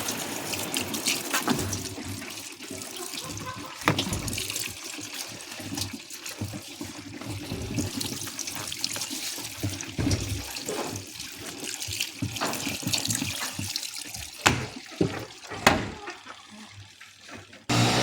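Water left running into laundry in a tub splashes and gurgles steadily throughout, with occasional clatters and knocks nearby and a few louder splashes toward the end.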